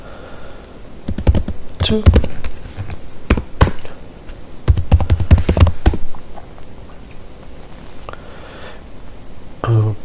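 Someone types a terminal command on a computer keyboard in close, uneven bursts of rapid key clicks, with short pauses and a final sharp keystroke.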